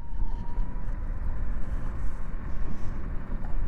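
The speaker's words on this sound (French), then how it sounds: "le moteur, on est chez Dualtron donc vous inquiétez pas, il fait du bruit" Dualtron Togo electric scooter accelerating, its motor whining steadily under loud rushing wind and road rumble, with no one talking.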